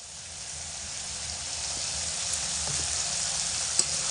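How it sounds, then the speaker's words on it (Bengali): Moong dal frying in hot oil with spices for a vegetarian khichuri gives a steady, close sizzle that holds throughout, with faint stirring clicks and one brief sharp tap near the end. "মশলার মধ্যে ফেলে ডাল খুব ভালো করে কষিয়ে নেব, যাতে করে ডালটা ভালোভাবে ভাজা হয়"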